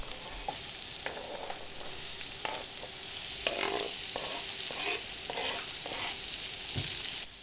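Diced onion sizzles in hot oil in a pan, a steady bright crackle with scattered pops and occasional scraping as it is stirred, heard alone.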